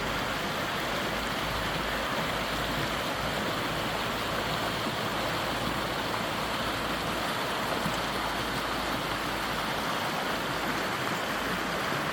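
A mountain river rushes continuously nearby in the Carpathians, a broad, steady roar of flowing water with no voices.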